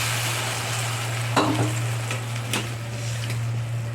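Vegetables frying in a pan keep up a steady sizzle, with a couple of sharp bursts where water hits the hot oil and a few spoon scrapes on the pan.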